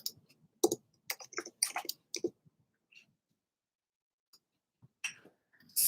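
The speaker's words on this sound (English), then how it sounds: "And we're going to type in Laura." Keyboard keys typing a name into a search box, a few quick bursts of soft, close clicks with pauses between, fairly quiet.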